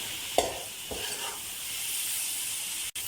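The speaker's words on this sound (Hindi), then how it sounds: "इस तरीके से इसको अब हम फ्राई करेंगे" Chicken bread masala fries in a pan, a soft steady sizzle with a couple of spoon scrapes near the start, heard close and alone.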